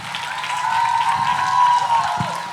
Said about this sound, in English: Excellent, big applause.